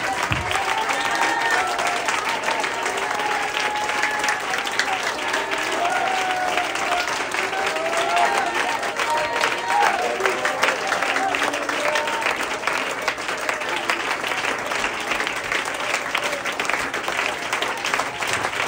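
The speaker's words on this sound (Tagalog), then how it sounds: "Put your Bibles down and give Him just a 15-second clap offering." A church congregation at a Philippine worship service gives a long, loud clap offering, dense continuous hand clapping from many people that stays strong throughout with faint voices and cheers mixed in.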